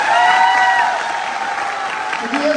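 Audience clapping in honour of the Indian Army at a celebration event in Jaipur, a dense steady applause heard under a voice talking over it.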